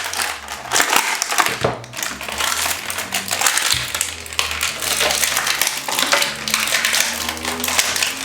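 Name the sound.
ripping open tough plastic toy packaging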